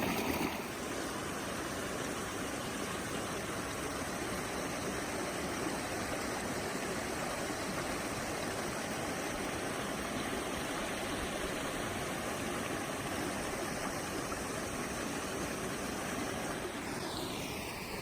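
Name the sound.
clear mountain stream water flowing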